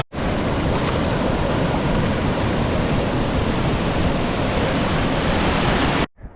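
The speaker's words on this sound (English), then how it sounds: "Okay, so these waves are tough." Ocean surf breaks at a beach in a dense, steady roar of crashing waves, loud and continuous for several seconds, with no voices, then cuts off abruptly.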